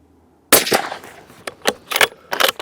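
Benelli Lupo Open Country rifle fired at a 100-yard ballistic test, a sharp loud report followed by several shorter echoing cracks and thumps in the next two seconds.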